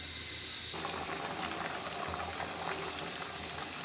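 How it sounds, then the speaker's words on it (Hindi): Rice cooks in a pot of boiling water, giving a steady, close bubbling and hissing that starts abruptly and continues without pause or talk. "चावलों को पानी खुश्क होने तक पकाएंगे।"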